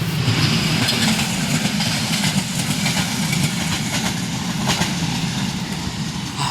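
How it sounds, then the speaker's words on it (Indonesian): A steady low rumble of a train pulling into a station in Kimitsu, Chiba, Japan, with faint rhythmic clicks and hiss layered over a continuous engine drone. "Nah, ini kereta datang."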